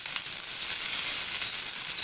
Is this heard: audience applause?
no